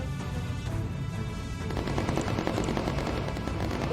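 Incendiary rounds fire in rapid bursts at enemy fighters in the video game Bomber Crew, a dense continuous rattle of gunfire over a low droning engine rumble.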